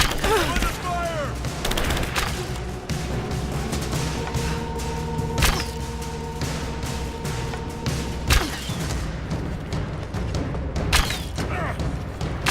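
Combat gunfire in the video game Rise of the Tomb Raider, a scattered fusillade of shots and thuds spread across a busy battle soundscape, with occasional sharper reports standing out over music and ambience.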